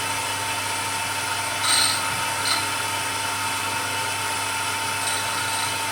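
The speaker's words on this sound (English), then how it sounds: "I'll have to take off a bit of material on all 4 of those white teeth before we can get a decent bit of grinding" A grinder works on the teeth of a cutter with a continuous, even mechanical whine and hiss, broken only by a couple of brief sharper scrapes of metal contact.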